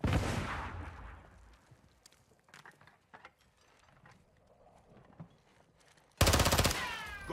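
Gunfire and mechanical weapon clatter in Call of Duty Modern Warfare 2: scattered sharp shots and metallic clicks through a quieter stretch, then a sudden loud burst of firing near the end.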